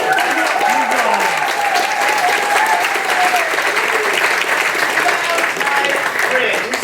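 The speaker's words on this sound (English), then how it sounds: "let us applaud them all!" A large audience claps loudly and continuously, with voices and cheers mixed into the sustained applause.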